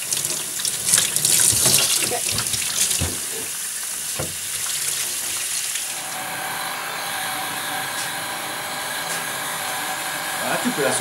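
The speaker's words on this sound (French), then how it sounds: "Tu peux passer l'eau maintenant dedans." Tap water runs and splashes through brass trumpet tubing during a restoration, a steady rushing flow that starts busy and uneven and then settles into a continuous hiss.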